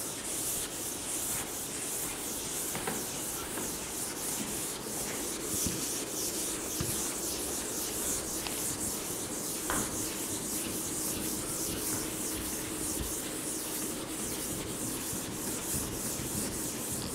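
A blackboard being erased by rubbing in a classroom, a continuous dry scraping and brushing that runs for many seconds, close and fairly loud with no speech.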